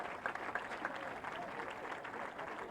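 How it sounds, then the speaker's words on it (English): A distant golf gallery at the 1993 Masters final round gives a steady standing ovation, a soft continuous wash of clapping with no yelling, heard at low level from afar. "what a standing ovation he got"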